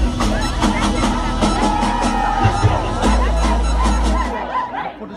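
Crowd at a live dance show cheers and hoots together with a loud music track, producing a dense, continuous wash of voices and shouts, with no single voice standing out.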